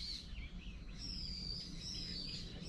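Faint, high bird chirps and short whistled calls come and go over a soft, hushed background in a quiet natural setting in Japan.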